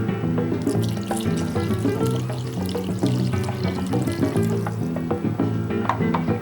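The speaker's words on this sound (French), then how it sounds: "Et de l'eau tiède." Lukewarm water poured steadily into a bowl for olive bread dough, a continuous close splashing gurgle lasting throughout with no voices.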